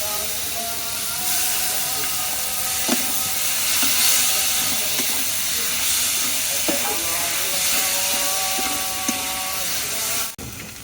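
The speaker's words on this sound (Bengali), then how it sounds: "মশলা অনুমান লিচগুলো কষানো হয়ে গেছে এবার কচুর ফুলগুলো দিয়ে দেবো" Taro flowers going into a hot pan of fried spice paste, giving a steady broadband sizzle and hiss with a few sharp clinks of a utensil against the pan throughout.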